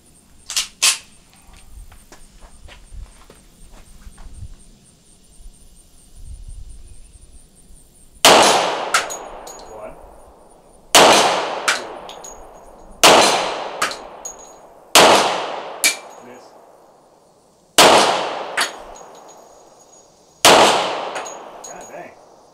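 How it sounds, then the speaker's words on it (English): A Rock Island FS Ultra 10mm 1911 pistol fired at targets outdoors: several loud, sharp shots spaced a couple of seconds apart, each with a decaying ring, after lighter metallic clinks at the start. "So we're gonna go ahead and get shooting at these targets."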